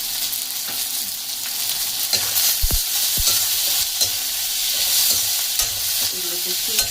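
Capsicum and pasta fry in a salted pan with a close, constant sizzle, broken by the scrape and clack of a spatula stirring every second or so.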